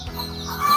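Ayam kampung unggul, a superior Indonesian free-range chicken breed, gives a short, close, clear cluck alone.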